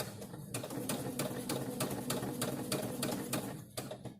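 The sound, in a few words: sewing machine stitching a straight line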